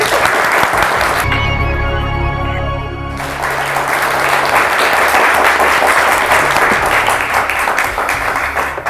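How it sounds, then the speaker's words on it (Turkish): Studio audience at a Turkish TV quiz show breaking into strong, sustained applause, loud and dense, with a short musical sting partway through and no voices standing out. "Siz yine bir kuvvetli alkış alın."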